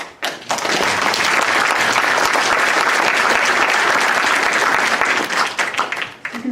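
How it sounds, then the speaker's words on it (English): Seminar audience in an Imam Haron memorial event bursting into loud, sustained applause that fills the room for several seconds, then tapers off unevenly near the end. "big hand of applause."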